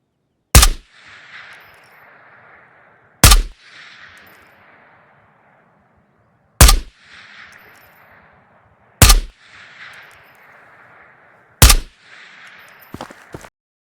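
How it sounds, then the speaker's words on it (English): A suppressed SCAR rifle in the video game Ghost of Tabor fires five sharp single shots a few seconds apart. Each loud crack is followed by a short fading tail, and a faint rattle comes at the end. "Next up, we have our SCAR. Firing suppressed."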